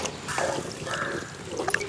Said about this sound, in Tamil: நான் பெரிய டம்ளரில் ஒரு டம்ளர் தண்ணி சேர்த்துக்கிறேன்